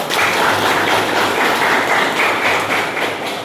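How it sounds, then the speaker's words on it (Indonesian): Students in a classroom burst into dense, sustained clapping, a close and steady wash of hand claps that holds evenly before tapering slightly at the end. "Tepuk tangan lagi dong."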